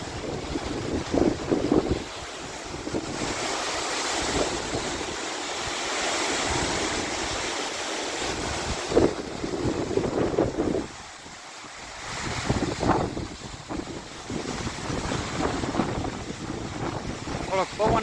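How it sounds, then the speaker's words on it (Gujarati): Strong wind buffets the microphone at a dam, producing a continuous roaring rush with gusty swells, together with water surging below and people talking intermittently through it. "અવાજ આવે છે અહીંયા પવનનો"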